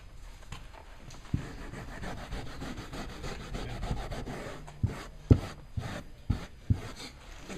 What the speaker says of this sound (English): And just keep scrubbing until it's clean.